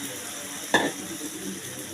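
A thick pancake batter of dalia and flour fries in a pan over low to medium heat, a quiet steady sizzle with one sharp clink of a utensil against the pan near the middle.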